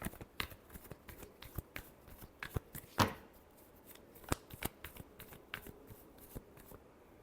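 A deck of tarot cards is shuffled by hand in a quick series of crisp riffles and taps, close and fairly quiet, with no talking.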